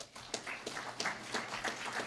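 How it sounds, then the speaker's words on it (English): Scattered applause from a graduation ceremony audience, a thin patter of claps rising and falling over about two seconds. "Let's give that support crew a round of applause"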